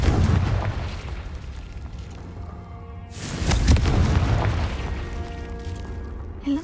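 A Confringo spell explosion in Hogwarts Legacy erupts as a loud, booming blast midway, with a rumbling tail that trails off over a dense game soundscape.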